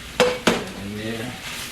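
Spicy chicken and shrimp are stirred in a pan: two sharp utensil clacks against the pan, then a soft scraping and low sizzle, fairly quiet and close.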